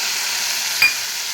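Chopped onion and tomato sizzle in a pan over high flame for dal tadka, a steady close frying hiss with a brief stirring scrape near the end.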